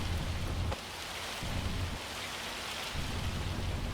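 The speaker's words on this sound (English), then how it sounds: "The hail just doesn't bounce off." Hail falling in Farming Simulator 25, a steady loud rush of pelting impacts with low rumbling surges that drop away and return in waves, no talking.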